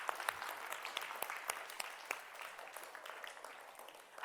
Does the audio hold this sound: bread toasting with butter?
no